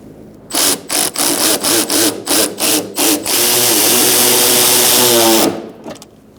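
A power tool with a 10mm socket snugs bolts where a Hyundai Accent's fender and bumper meet, whirring in about eight short rapid bursts before one sustained run, loud and close.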